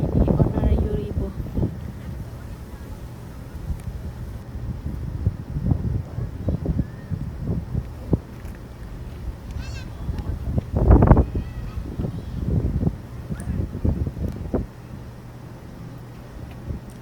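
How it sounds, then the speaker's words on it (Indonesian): Strong wind batters the microphone outdoors in Batam in a constant rough roar with repeated louder gusty bursts, and faint talking is partly buried under the noise. "hari ini anginnya itu sangat kencang, jadinya suaranya ribut"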